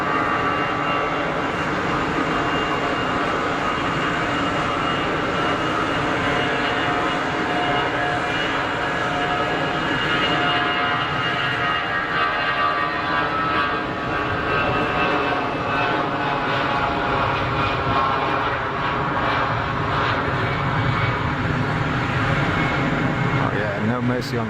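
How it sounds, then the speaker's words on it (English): A TAP Airbus A320 departs from Geneva Airport for Porto, its engines building into a loud, sustained roar that swells and rumbles for the whole stretch as someone talks over it. "TAP is joining the active right now. 320 heading out to Portugal, out to Porto."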